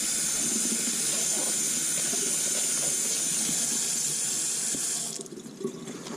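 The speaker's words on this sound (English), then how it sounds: "I'm going to just rinse this cabbage off real quick" Tap water runs steadily into a kitchen sink while a cabbage is rinsed, a loud continuous splashing hiss that cuts off near the end, followed by faint handling sounds.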